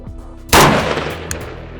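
A Daniel Defense DD5V1 7.62 AR-platform rifle fires a single loud, sharp shot that rings out and decays over about a second, with no talk.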